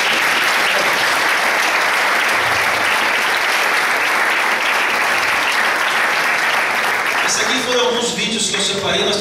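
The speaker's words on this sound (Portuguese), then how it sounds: "Podemos aplaudir ao Senhor por isso?" Sustained applause from an audience at a church gathering, dense steady clapping filling most of the clip before tapering off near the end as a voice begins speaking.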